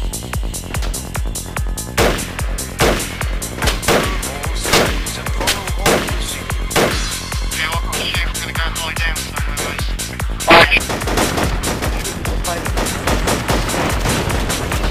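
Rapid gunfire rattles continuously in the Project Reality military shooter: dense automatic bursts mixed with heavier booming shots, loud and close throughout, with a sharp crack near the end.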